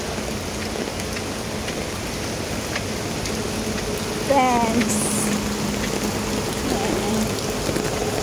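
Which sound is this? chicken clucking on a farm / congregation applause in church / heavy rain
heavy rain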